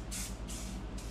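Simple Green cleaner is sprayed onto a 1978 Evinrude 35 hp outboard motor in three quick, close, loud hissing bursts with short gaps between them.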